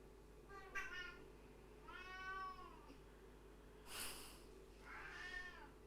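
A cat meows several times in a quiet yoga studio, drawn-out mewing calls spaced a second or two apart, fairly close over a faint background hum.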